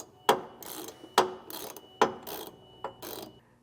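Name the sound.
socket wrench ratcheting on trailer hitch hardware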